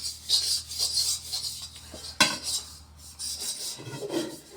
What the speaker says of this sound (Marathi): साबण घ्यायची त्याने असं चोळून घ्यायची पूर्ण कढईला साबण